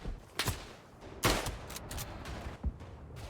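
Gunfire in the WWI shooter game Tannenberg: a few sharp shots at separate moments, one standing out loud near the middle, with quieter bursts between them and no talk.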